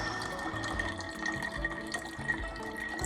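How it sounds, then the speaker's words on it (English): Lime LaCroix sparkling water with a dash of cranberry juice being poured from one glass into another, a steady liquid trickle and splash running close and continuous with no talking. "Why am I pouring my glass into another glass, you say?"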